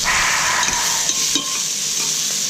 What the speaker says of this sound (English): You hear them sizzling?